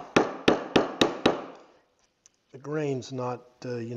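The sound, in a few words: chisel cutting plywood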